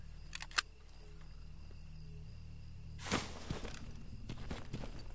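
A creature's footsteps approach in S.T.A.L.K.E.R. Gamma, a faint scuffing shuffle that grows after a quiet stretch with a few clicks, low against a hushed ambient drone.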